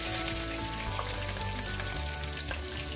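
Onions and curry leaves frying in a couple tablespoons of hot oil give a steady, close sizzle and crackle throughout, with no talking.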